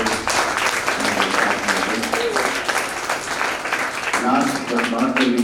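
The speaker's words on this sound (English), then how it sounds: "Please a big round of applause for the teachers." A school audience at a robotics expo applauds the teachers, loud sustained clapping mixed with voices and a few cheers over the crowd.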